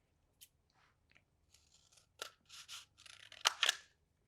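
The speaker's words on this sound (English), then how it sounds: "the first step is to grab one of your rolls and we're going to cut it in half" Scissors cut lengthwise through a cardboard tube roll for a cotton ball launcher craft, giving a series of crisp, crunchy snips that grow louder and denser toward the end, heard close and alone.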